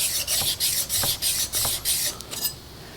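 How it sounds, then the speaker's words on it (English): Steel blade back rubbed in repeated strokes across an 800 grit water stone, a close, rhythmic wet rasp of about eight passes that pulse loud and soft, with no talking. "We're going to rub the back across the stone"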